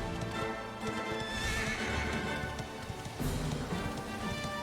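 A horse in the video game Dragon Quest 11 S, its hooves clopping steadily at a gallop while loud whinnies and neighs rise over game ambience.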